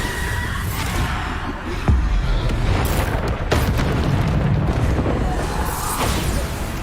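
A Bombarda spell in Hogwarts Legacy sets off a heavy booming blast with a crashing rumble and further impacts, loud and close over dense game ambience.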